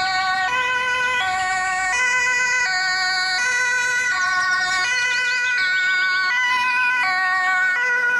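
A toy ambulance's two-tone electronic siren alternates high and low in a regular pattern, fairly loud and close.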